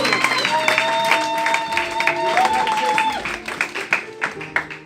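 A church congregation claps and cheers at a baby dedication service, with applause and crowd noise mixed with singing or voices. The claps grow sparse near the end.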